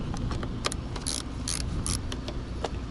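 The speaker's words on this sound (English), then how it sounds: "In order to remove the negative terminal on the battery, we're going to go ahead and use a 10mm ratchet" A 10mm ratchet clicks in short, irregular bursts while loosening the negative battery terminal on a Toyota Century. The sound is close and moderately loud, with no talking.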